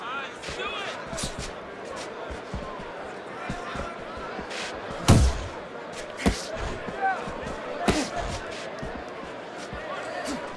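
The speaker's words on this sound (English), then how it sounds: "Razors rocked by a huge hook to the head." Punches land in the Fight Night Champion boxing video game, scattered sharp thuds with one heavy hit near the middle, under steady commentary and a low crowd murmur.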